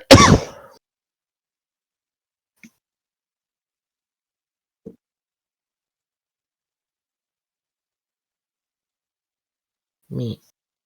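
A sharp throat clear and cough burst out up close at the start, then a few faint tiny noises, and a short rough throat sound near the end, all separated by long silence.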